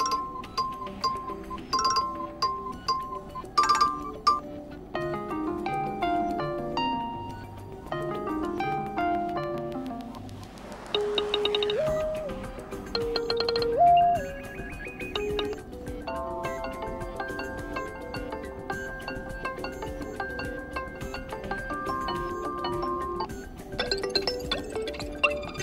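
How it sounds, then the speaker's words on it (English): Several iPhone ringtone previews play one after another, short chiming melodic tones and tinkling notes in changing patterns, with brief gaps and switches between tunes at moderate volume. "Now if I tap any ringtone from the list, we'll hear it"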